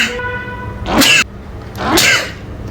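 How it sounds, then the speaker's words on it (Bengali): A person with a cold sneezes twice on a rainy day indoors, two loud close sneezes about a second apart. "সারাদিন হাঁচি দিতে দিতে আর নাক টানতে টানতে জীবন শেষ"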